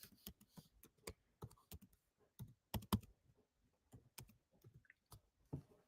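Slow, uneven typing on a computer keyboard, with scattered single key taps and short clusters of clicks close by in a quiet room.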